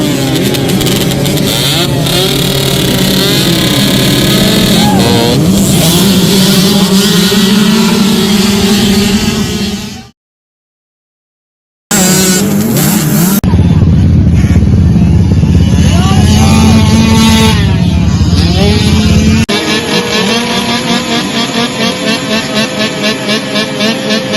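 A 2006 Kawasaki KX65 dirt bike engine revs loud and close, climbing and falling in pitch, cuts out briefly, then returns with a rapid buzzing idle through to the end.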